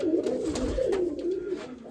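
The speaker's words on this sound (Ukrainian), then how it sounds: "Голубів есть, молочный есть, хаяси есть, ага." Mykolaiv pigeons at a dovecote in Kamianske give a continuous warbling coo, a close, wavering low call rolling on without pause, with faint rustling behind it.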